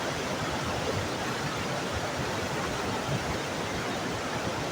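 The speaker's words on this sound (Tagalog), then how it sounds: "sa sobrang lakas ng bulosok ng tubig" Loud, constant roar of rushing water, a dense broadband wash with no pauses, like a powerful torrent pouring through a dam.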